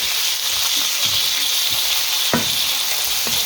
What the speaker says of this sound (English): Now just going to throw this seitan in there. What I like to do is just get it a little bit crispy.